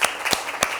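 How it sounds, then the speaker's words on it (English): A classroom of students claps for a student group, giving a brief, sparse burst of a few scattered hand claps, quiet and close. "Clap for Group 3"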